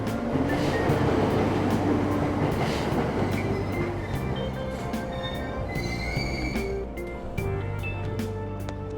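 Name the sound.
train departing station in video game Persona 5 Royal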